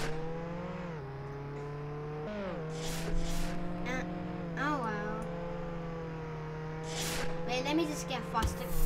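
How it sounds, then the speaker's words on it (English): Video game car engine from Roblox Jailbreak, a steady tonal drone that steps up and down in pitch as the car accelerates and shifts. A player talks over it. "I'm gonna drive the car."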